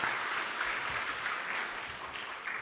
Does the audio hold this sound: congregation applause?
yes